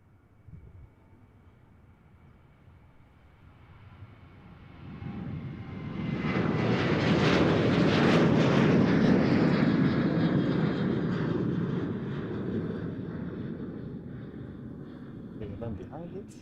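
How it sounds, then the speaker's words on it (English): An airplane landing at Amsterdam Schiphol Airport swells into a broad roaring rumble that peaks and then slowly fades, heard from a distance outdoors. "There's a landing again."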